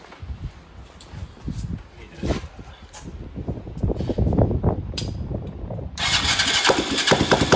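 A 250 cc engine cranks with several uneven sputters and rising mechanical clatter, then catches and runs louder near the end, close up.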